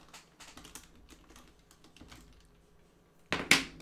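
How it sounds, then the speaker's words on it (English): Someone types on a computer keyboard nearby with light, irregular key taps for several seconds, then strikes a few louder, heavier keys near the end. "typing and holding a stylus is surprisingly challenging"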